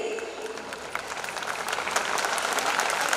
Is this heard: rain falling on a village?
no